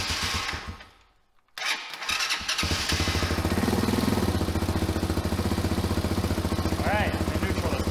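A TaoTao TBR7 dirt bike engine starts after a brief near-silent pause, catching abruptly and then running on in a close, steady, buzzing idle with a rattling mechanical edge.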